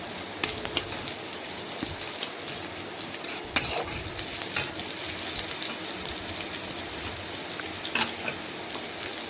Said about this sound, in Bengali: আর একটু ভাজবো পেঁয়াজটা।